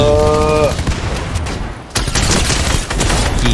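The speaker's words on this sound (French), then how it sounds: "il y en a un autre qui tire dessus" Gunfire in the Fortnite battle royale video game, a loud, dense burst of rapid game shots filling the whole moment, with a brief dip midway before more shooting resumes.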